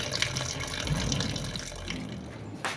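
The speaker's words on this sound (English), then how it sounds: "I'll go ahead now and wash all the vegetables I'll be using for the recipe" Tap water running over vegetables in a kitchen sink, a steady moderate splashing rush with small drips and clatters, fading near the end.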